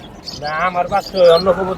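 Pigeons coo and call at a crowded pigeon market in Fatullah, Bangladesh, short throaty warbling coos close up amid market noise, lasting under two seconds.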